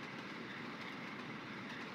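LNER Gresley P2 steam locomotive 'William Wallace' running in the Trainz simulator, a steady continuous rumble of the moving train with faint rhythmic clatter and no voices.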